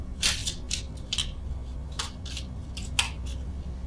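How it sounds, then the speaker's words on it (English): Tarot cards being shuffled slowly by hand, giving a series of short, crisp riffles and flicks at irregular intervals over a low steady background hum, with no talking. "Again, apologies for the shuffling here."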